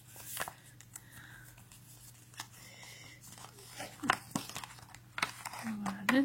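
A small paper envelope from a McDonald's Molang booster is opened up close, with soft crinkling and tearing paper bursts scattered through the clip while someone talks over it.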